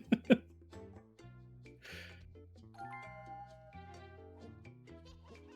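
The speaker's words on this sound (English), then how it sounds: "Ding dong." Doorbell ding-dong chime in a video game, two sharp bright strikes at the start followed by sustained game music tones.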